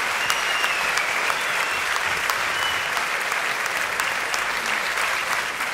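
Steady applause from an awards-event audience fills the hall, a dense, even patter of many hands clapping at moderate distance, sustained without pause and with no voices over it.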